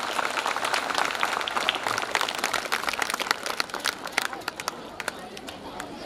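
Audience applause at a school annual function and silver jubilee celebration, a steady hall-wide patter of clapping with crowd noise that holds for several seconds before thinning out toward the end.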